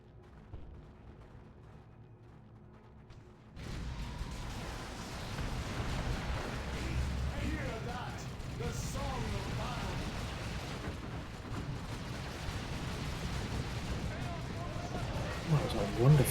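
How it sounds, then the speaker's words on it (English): Grenade blasts and battle noise from a Dawn of War real-time strategy match, a quiet stretch giving way at about three and a half seconds to a dense, loud, rumbling barrage of explosions and gunfire that keeps going, with a voice talking over it. "That was a wonderful nade ability there."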